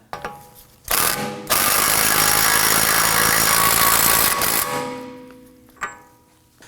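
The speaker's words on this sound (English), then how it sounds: "We're going to use our 30mm socket to go ahead and snug that down." Pneumatic impact wrench with a 30mm socket runs tightening the rear axle nut on a 2018-2024 Toyota Camry hub, a loud close buzzing whir in short bursts, then a brief rattle and a couple of clanks.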